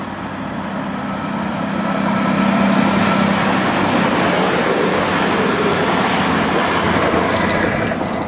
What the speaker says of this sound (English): I'm filming this at Sheffield train station.